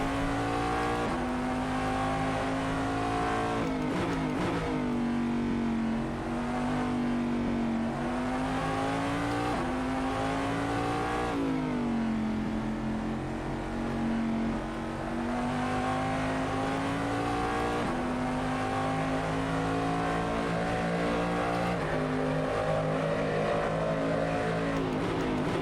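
Corvette DP race car engine at the Red Bull Ring in Assetto Corsa, a loud continuous interior roar rising and falling through gear changes and corners, alone with no voices.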